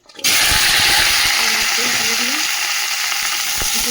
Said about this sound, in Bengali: আলু ফুলকপি মূলোটাও ভেজে নেবো, সব একসাথে ভেজে নিই